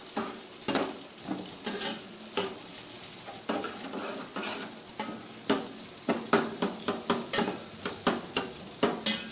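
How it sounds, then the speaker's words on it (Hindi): Chopped onions sizzle and fry in hot ghee for chicken pulao, a steady crackling hiss broken by repeated sharp scrapes and stirs of a utensil against the pan, growing more rhythmic toward the end. "घी हमारा गर्म हो चुका है तो अभी इसके अंदर हम ये प्याज डालेंगे जो हमने काट के रखे थे।"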